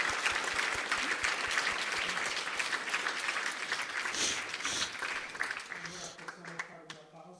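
Audience applause for the speakers at a live special event, a dense sustained wash of clapping that thins toward the end, with a voice talking underneath in the final seconds.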